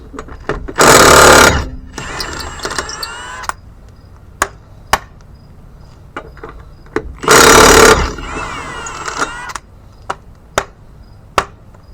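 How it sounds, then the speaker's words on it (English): On a Mitsubishi Mirage, a power tool loosening the lug nuts gives two loud, close bursts of buzzing rattle, each about a second long, separated and followed by sharp clanks and knocks of metal. "Now pull those lug nuts off."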